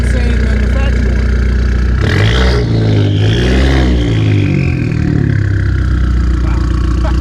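A car with an aftermarket exhaust idles at a car show, giving a steady, deep, rumbling drone with a brief swell in the middle. Voices talk over it.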